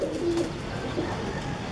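A pigeon, newly caught during the season, gives a short, soft coo close to the microphone over a steady hiss of background noise, with no talking.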